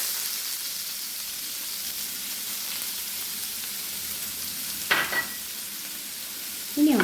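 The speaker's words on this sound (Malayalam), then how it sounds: "അപ്പം നമുക്ക് ഇതിലേക്ക് ഉള്ളി, വെളുത്തുള്ളി, മുളക് ഇതത്രയും ചതച്ചു വെച്ചിരിക്കുന്നത് ഇട്ട് കൊടുക്കാം." Crushed onion, garlic and chili frying in a pan with a steady, hissing sizzle, broken by a couple of short stirring scrapes near the end.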